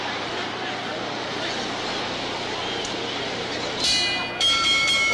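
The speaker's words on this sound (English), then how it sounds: "The bell for round 2." A ringside bell sounds near the end, a couple of bright strikes signalling the start of round two at a heavyweight boxing match, over steady crowd noise and a commentator talking.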